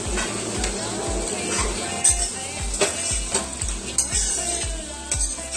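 Spoon stirring spices through raw banana curry in a pan, with repeated rhythmic scraping strokes over a steady soft sizzle, close and moderately loud.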